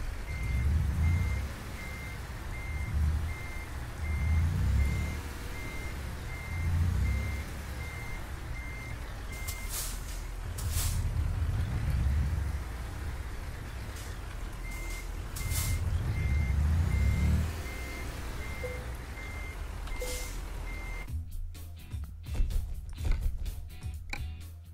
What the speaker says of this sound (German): Jetzt muss ich bloß noch ordentlich hier den LKW reinrangieren